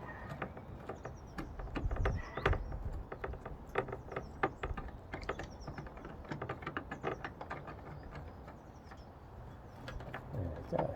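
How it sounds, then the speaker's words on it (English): Rusty licence plate screws on a BMW E31 are turned out with a long Phillips screwdriver, producing faint, repeated creaking clicks and grinding ticks in an irregular rhythm. "you need a long Phillips or posi drive screwdriver for this. Get two rusty screws."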